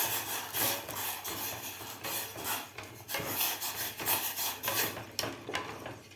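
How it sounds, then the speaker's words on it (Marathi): A spoon rubbing and scraping steadily in a pan as ragi flour porridge is stirred to keep out lumps, a repetitive rasping rhythm that continues throughout, close and clear with no voices. "एकसारखं याला हलवत राहायचं आहे।"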